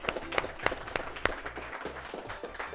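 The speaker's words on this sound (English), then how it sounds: "Let's have a round of applause for that Benjamin Tasker team" A small audience at a school science bowl competition claps for a team in a short, fairly faint burst of scattered applause.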